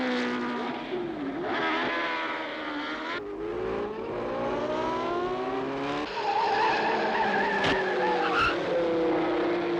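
Race cars in a USAC 500-mile Eastern Special race, engines whining and shifting pitch with squealing tires, one car pulling past with a steady loud roar and no voices.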